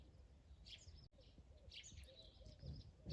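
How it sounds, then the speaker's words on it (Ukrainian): Faint spring birdsong drifts in from a distance, with scattered chirps and short calls over a quiet outdoor background. "Послухайте, як гарно співають пташки."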